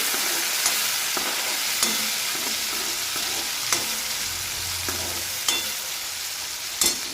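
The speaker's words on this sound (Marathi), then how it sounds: "आता आपण लगेच त्यामध्ये थोडंसं टमाटर टाकून घेऊ" Tomato going into potatoes frying in a pan, with a steady hissing sizzle throughout and a series of sharp spoon taps and scrapes against the pan every second or so, close and without talk.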